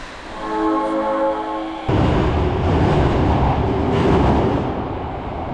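A Japanese metro train running, with a tonal motor whine of rising pitch at first, then a loud, steady broadband rumble and rattle of the cars rolling close by; no talking.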